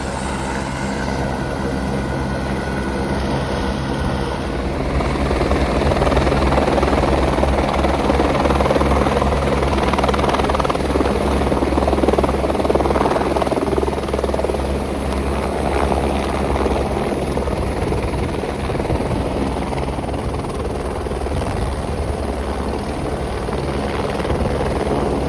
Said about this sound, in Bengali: এই হচ্ছে হেলিকপ্টার।